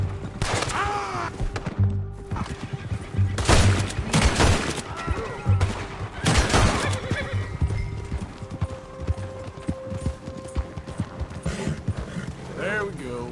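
Red Dead Redemption 2 gameplay with horse hooves clip-clopping and a horse whinnying, broken by a few loud bursts of gunfire, while voices talk over much of the scene.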